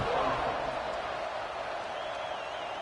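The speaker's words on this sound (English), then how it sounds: "this crowd is buzzing after that last score" A football stadium crowd at Arkansas versus Tennessee buzzes steadily after a score, a broad, constant roar of many voices that stays loud and even throughout the short stretch.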